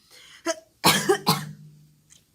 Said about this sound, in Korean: 이건 기침이 왜 나지?